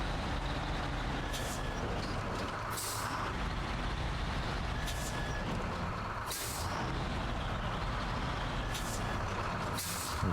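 A heavy truck in the video game SnowRunner gives several loud hissing air-brake releases over a steady low engine rumble, with faint repeating beeps as it backs up.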